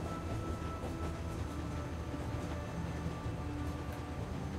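A continuous low rumble of a running train in The Walking Dead Telltale game, steady and fairly faint, with no distinct clacks or voices.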